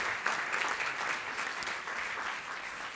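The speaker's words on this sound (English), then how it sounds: "Give them a round of applause for that" Steady applause from an audience at a practice growth workshop, dense clapping holding at an even level throughout with no voices standing out.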